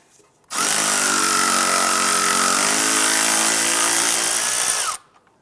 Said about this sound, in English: I'm going to go ahead and use a 10mm socket right here to go ahead and remove this bolt holding the ABS sensor to the knuckle.